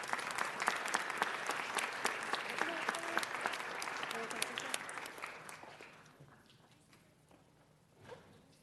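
A council chamber audience applauds San Fernando High School at a city council meeting. Clapping is steady and fairly strong for about six seconds, then fades out, leaving faint room noise and a small thump near the end.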